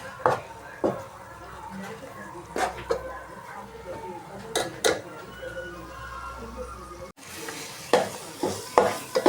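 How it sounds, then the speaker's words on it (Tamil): Green chillies sautéing in a pan for a coconut-free fish curry give a steady low sizzle, broken by repeated scraping stirs of the spoon against the pan, close by, with no talk. "நல்லா வதக்கிடுச்சாங்க பச்சை மிளகாங்க"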